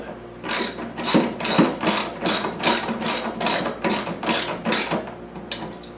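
Ratchet driving a lag bolt into the side of a floor joist, a steady run of about a dozen loud, close clicking bursts in an even back-and-forth rhythm with no talking.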